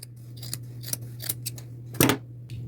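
Scissors snip through a plain white cotton shirt, cutting the sleeves straight across in a quick series of short crisp snips, with one louder, longer cut near the end, close and alone.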